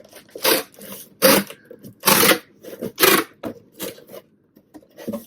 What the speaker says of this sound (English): Warning for the tape noise you are about to hear.